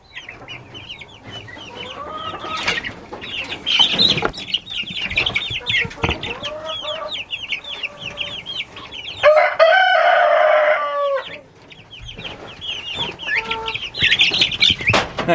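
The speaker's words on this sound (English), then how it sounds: "All these chicks will run down there in just a second." Chickens and young chicks cluck and crow around feed at a farm during nightly feeding, with a rooster's cock-a-doodle-doo rising over steady, busy clucking and chirping close to the microphone.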